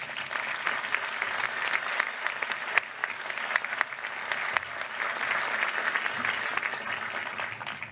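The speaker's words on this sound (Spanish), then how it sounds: "con un muy cálido aplauso" An audience applauds warmly at a 120th anniversary ceremony of a national industry society, a steady, moderately distant crowd clapping that runs evenly for the full eight seconds with a faint murmur beneath.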